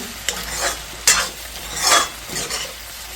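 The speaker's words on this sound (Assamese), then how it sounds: "মাংসখিনি কি ধুনীয়াকৈ ফ্ৰাই হৈছে" Mutton and onions for an Assamese-style curry sizzle in a pan, close and steady, as a utensil stirs them with a few scraping strokes and a sharp clink against the metal.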